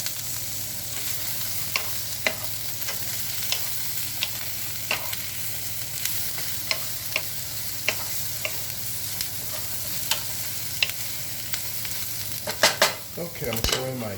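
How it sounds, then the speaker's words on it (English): Chicken and onions stir-fry in oyster sauce, a steady sizzle with scattered scraping stirs of a utensil against the pan and a brief louder clatter near the end. "if you like your onions extra tender, then you might want to cook it a minute or so longer"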